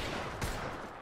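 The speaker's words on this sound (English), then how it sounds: "Opening fire." Burst of video game gunfire in a squad shooter match, a short dense volley of shots loud and close, one heavier blast near the middle.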